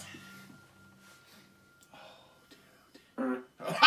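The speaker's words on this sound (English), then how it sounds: "Do a squelchy fart." A smart speaker plays a squelchy fart sound effect in two short wet bursts near the end, following a quiet stretch with faint voices in a home.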